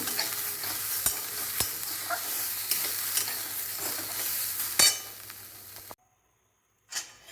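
Grated coconut is stirred and fried in a pan, a close, steady sizzle with repeated scraping and tapping of the spatula, then a sudden silence and one more brief scrape.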